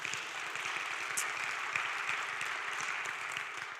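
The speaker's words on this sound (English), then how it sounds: "I think you should give all of yourselves a round of applause." A church congregation claps together in a steady, moderately distant round of applause, a continuous patter of hands with no talking over it.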